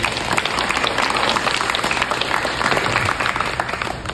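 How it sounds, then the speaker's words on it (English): A crowd at a building dedication applauds steadily and loudly throughout, dense clapping with no pauses and no talking. "Can we get one more round of applause for you?"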